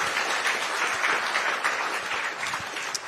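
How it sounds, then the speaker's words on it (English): Dense, steady clapping from an audience at a community panel event fills the whole short stretch at an even level. "Give yourselves a round of applause."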